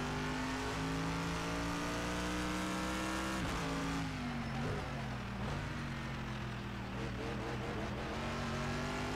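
Race car engine in Project CARS 2, racing at Dubai by night, droning steadily with shifting pitch, revving up and down as gears change, continuous and loud throughout.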